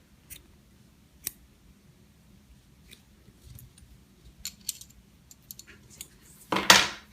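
Scissors snip crochet yarn loose from a finished crocheted skull, a few faint quiet clicks and rustles ending in one sharper, louder cut near the end.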